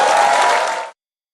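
A studio audience on a current-affairs talk show applauds in a short, loud, dense burst that cuts off abruptly after about a second.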